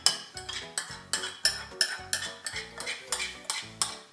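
Spoon clinking rhythmically against a container while stirring a yeast and water mixture, about ten evenly spaced scraping strikes, close and alone with no talk.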